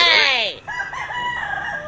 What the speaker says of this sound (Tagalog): Isa po sa mga personal na manok ni Sir B-Boy Enriquez